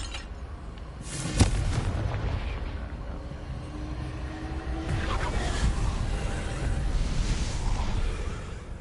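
A Confringo spell goes off in Hogwarts Legacy with a sharp booming blast, followed by a sustained rumbling roar and crackling game ambience that fills the rest of the stretch.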